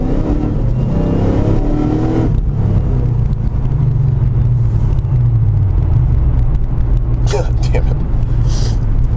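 A Whipple-supercharged Chevrolet SS accelerates hard on a road, its engine giving a loud, deep rumbling roar that builds and holds, heard from inside the car while someone talks over it.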